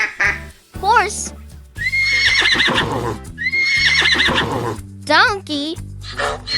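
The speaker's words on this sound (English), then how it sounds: "Horse." A horse neighs in a loud, quavering whinny, followed by a second shorter whinny near the end, set over a bright children's music backing with no talking.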